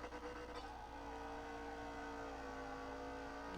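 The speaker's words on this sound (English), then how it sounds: "Now we're gonna drive the car to a racetrack, I guess, and we're gonna race the car on a racetrack." A race car engine in Car Mechanic Simulator 2021 drones steadily at a constant pitch, a loud, even hum with no talking over it.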